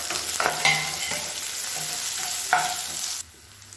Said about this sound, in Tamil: ஒரு கைப்பிடி அளவுக்கு சின்ன வெங்காயம் சேர்த்துக்கலாம்.